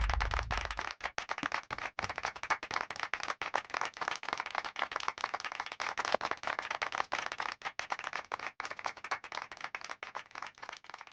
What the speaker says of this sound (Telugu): అందరూ చప్పట్లు చప్పట్లు